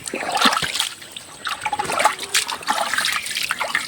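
Water trickling and splashing while water is being fetched outdoors, an uneven run of close dribbles and spatters with no speech.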